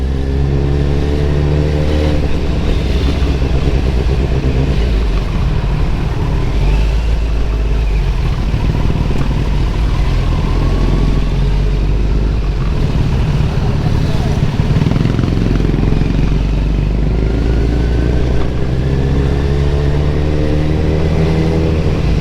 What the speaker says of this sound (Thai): เสียงท่อเดือดๆเลย แล้วก็รถเบานะครับมุดไปเลยมุดง่ายมาก